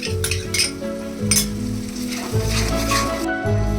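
Garlic paste, chilli powder, salt and whisked yogurt masala sautéing in hot oil, a dense close sizzle with spatula stirs and scrapes against the pan.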